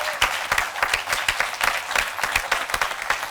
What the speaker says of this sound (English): I just think we should give a round of applause to everybody